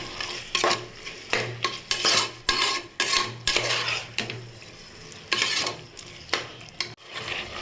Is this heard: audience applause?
no